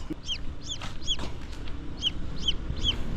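Rhode Island Red chicks and chickens peep and cluck in a steady run of short, high calls, roughly one every half second, close by over a low background rumble.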